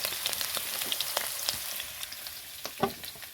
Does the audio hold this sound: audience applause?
no